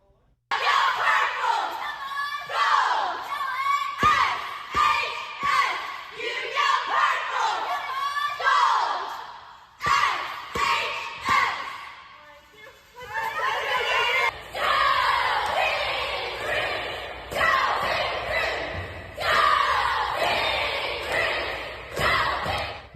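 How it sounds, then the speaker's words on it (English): School cheer squads chanting and yelling in rhythmic bursts at a game of the week, a loud group of voices rising and falling in repeated cheers with thumps between phrases. "The two teams featured in the game of the week are supported by their cheer squads"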